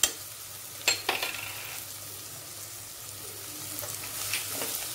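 Steady sizzling of ground spice powder sautéing in a hot pan for fish biryani, with a couple of brief clinks and stirring scrapes near the start.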